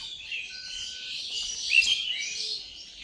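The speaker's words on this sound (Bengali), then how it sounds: "পাখির কিচিরমিচির" Birds chirp in a village in the morning, giving a few thin, high tweets and calls over a soft, quiet background that stays fairly distant.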